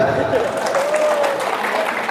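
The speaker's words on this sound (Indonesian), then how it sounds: "Tepuk tangan dulu." An audience claps in a dense, continuous burst of applause, loud and spread out like a crowd in a hall, with a voice or sustained tone faintly running underneath.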